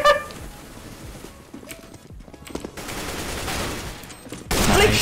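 Gunfire in CS:GO, several sharp close shots and rattling bursts scattered through the clip amid game noise, with no talk.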